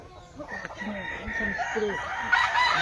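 A noisy chicken crows close by, a rhythmic series of short, strained calls, with other fowl clucking and faint background voices.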